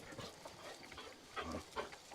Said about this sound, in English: Hello, dog.